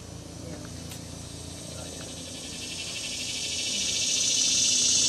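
High, buzzing 17-year periodical cicada song swelling steadily louder over a few seconds, with a low background rumble beneath it: two songs of a warm male followed by one of a colder male.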